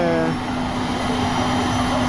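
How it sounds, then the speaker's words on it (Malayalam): Steady engine drone with a low, continuous hum, loud and close, as rotor blades begin turning, with a faint voice in the background. "ഇതാ പങ്കകൾ കറങ്ങി തുടങ്ങിയിട്ടുണ്ട് നമ്മളെ ഹെലികോപ്റ്റർ"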